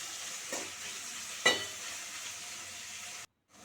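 Onions frying in a pan while cooking goat meat curry, a soft steady sizzle with a brief stirring scrape near the middle, close and fairly quiet, no voices.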